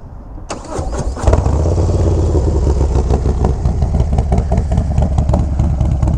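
A Harley-Davidson Low Rider ST with a Screaming Eagle 131 Stage 4 engine starts up loud and close, a brief crank giving way to a deep, steady, throbbing idle.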